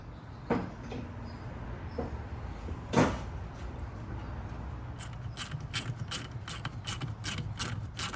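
Someone tightens the 12mm nuts on an AE86 brake master cylinder, with a few isolated metallic knocks followed by a quick run of ratchet clicks, fairly faint and close in a quiet space.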